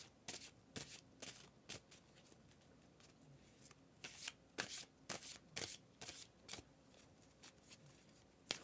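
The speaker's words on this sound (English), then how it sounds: "let's pull a few cards" Tarot cards are shuffled close up in repeated quick riffling bursts with short pauses between them, crisp and clear with no talking.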